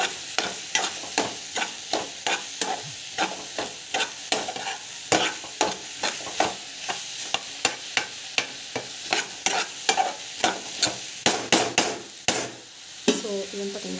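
Mushroom masala for a mushroom gravy being stirred and sautéed in a pan, with loud, regular scraping strokes of the spoon over a constant sizzle, close up and without talk.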